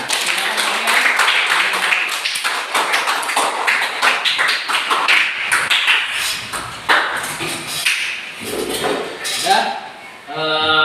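Classroom applause during a school teaching-practice lesson in Indonesia, a dense patter of many hands clapping steadily for about ten seconds, loud and close, with a few scattered taps and thumps near the end.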